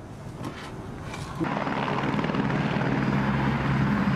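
A helicopter's steady rotor thrum and engine roar builds and then holds constant, loud and close, filling the whole clip without voices.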